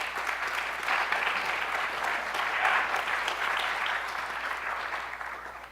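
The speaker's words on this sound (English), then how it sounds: "please give them both a round of applause." A theatre audience applauds a mind-reading act's two volunteers with steady, dense clapping that holds at full strength from start to finish, with no voices over it.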